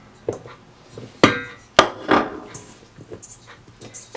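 Cubes of butter drop into a bowl of flour and are tossed around, giving a few soft, muffled thuds and scuffing knocks spread unevenly through a quiet kitchen.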